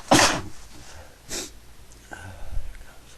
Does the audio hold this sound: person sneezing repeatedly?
yes